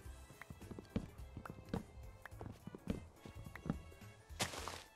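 Horses walk in modded Minecraft, a run of soft, irregular clip-clop hoof taps spaced through the stretch, fairly quiet and with no speech over them.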